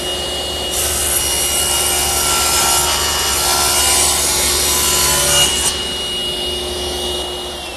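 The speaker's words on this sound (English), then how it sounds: "So I put a blade in the table saw that's ready to be sharpened, and I'll just rip 1/8 of an inch off of each edge." A table saw fitted with a dull blade rips an eighth of an inch off the edge of old wood boards, a loud, close whine with a steady motor hum underneath that eases off near the end.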